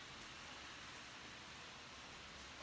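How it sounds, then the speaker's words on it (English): Steady, faint rain hiss fills the background evenly, a soft continuous wash of falling drops with no other sounds over it. "why do I hear rain in the background?"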